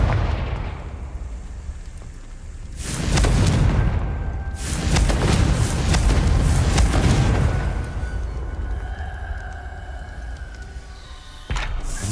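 A Confringo fire blast spell cast in Hogwarts Legacy lets out two loud, booming explosive bursts a few seconds apart, each with a rumbling tail, and a sharper burst near the end.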